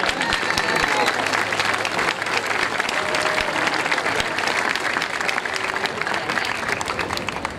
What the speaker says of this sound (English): give our host families a nice warm round of applause